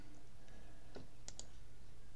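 A computer mouse on a Linux Mint desktop clicks a few times, faint and close against a steady low hum, with no talking.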